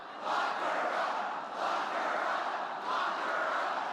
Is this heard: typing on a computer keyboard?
no